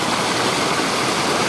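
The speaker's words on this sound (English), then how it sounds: "These are Cheaha Falls," Cheaha Falls, a small waterfall spilling into a pool in Talladega National Forest, roars as a loud, steady broadband rush of falling water heard up close, with no talk.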